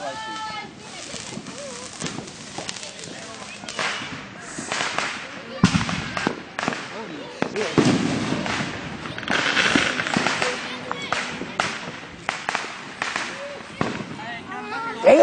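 An outdoor fireworks show with a dense run of booms, crackles and popping bursts, some distant and some close, while people talk and cheer throughout.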